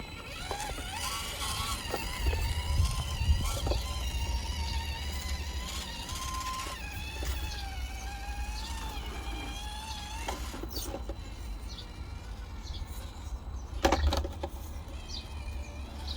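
An FMS FCX24 K5 Blazer RC crawler creeps along in first gear, its small motor whining and wavering in pitch as it climbs over obstacles, close and continuous with no voices.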